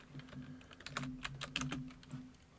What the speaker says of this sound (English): I'm gonna mute my mic real quick while I'm typing.